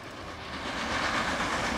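A train in the Transport Fever video game rolls along its rails at about 60 km/h, a steady rushing rumble with faint rail clatter that grows slightly louder as it passes.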